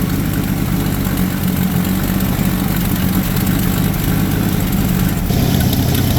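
A Ford car engine starts and idles steadily and loudly with an exhaust leak, a continuous low rumble with a slight change near the end.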